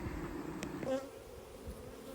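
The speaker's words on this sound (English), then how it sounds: "there's a good number of bees in there" Honey bees buzz in a nuc hive split during an inspection, the brood box open; a continuous close, dense hum fills the moment with a brief sharper whine, no voices.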